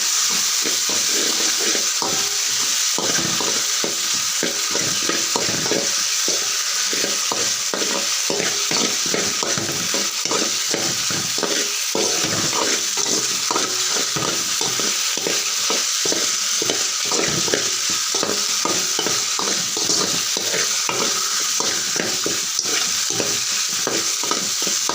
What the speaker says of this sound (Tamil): நல்லா கிளறி விட்டுக்கிறேன்